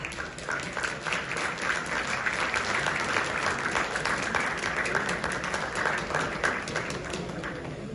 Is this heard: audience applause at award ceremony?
yes